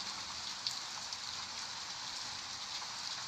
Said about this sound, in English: Oh, that's a good rain sound effect.